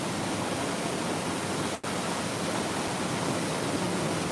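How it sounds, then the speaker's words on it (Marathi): The Warna river rushing over a waterfall with its gates opened, a loud, unbroken broadband roar of heavy water with one tiny dropout. "काय धबधबा पाणी पाण्याला गती काही कमी नाही"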